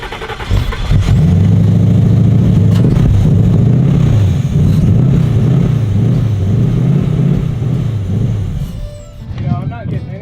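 A V8 engine in a Volkswagen Beetle cranks and catches, then settles into a loud, lumpy, rumbling idle close by that fades near the end, with a voice speaking briefly.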